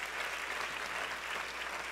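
A church congregation at a sermon applauds in a steady, even wash of many hands clapping, continuous and moderately loud throughout with no voices standing out.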